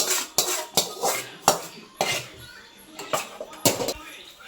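A spoon is stirred through a pot of bone and tapioca curry, Idukki style, making a string of sharp metallic clanks and scrapes at an irregular pace, close and fairly loud.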